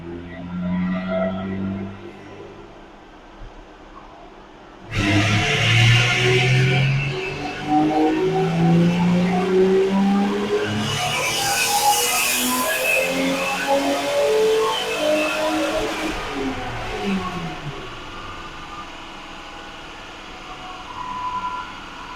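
BMW E30 325 engine with wasted-spark ignition revving hard to redline in a third-gear pull, a loud rising harmonic wail that climbs steadily then drops off after the shift, following a quieter idle.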